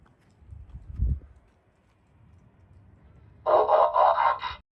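A custom lock chime from a Tesla plays as the doors lock, a short bright tonal melody lasting about a second, preceded by a faint low thump and quiet background.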